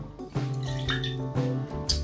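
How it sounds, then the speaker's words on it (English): Lemon juice poured into an empty cocktail shaker with no ice, a short run of splashing and dripping liquid, close and clear. "We start by pouring in a 1/2 ounce of lemon juice"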